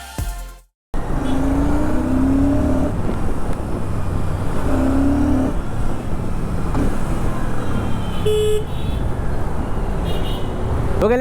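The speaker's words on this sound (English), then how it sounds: "It gets the same 650cc parallel twin engine which we have already seen on." A Royal Enfield Classic 650 with its 650cc parallel twin engine runs steadily and close by, holding a loud, continuous drone with a few rising rev swells and no talk over it.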